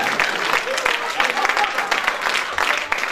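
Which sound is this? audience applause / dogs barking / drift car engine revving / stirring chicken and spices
audience applause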